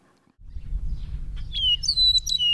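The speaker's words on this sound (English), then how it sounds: "Here in nature, in the morning, you hear the birds chirp" Birds chirping outdoors in the morning, a few bright tweets and short calls rising over a low rumbling background after a brief quiet start.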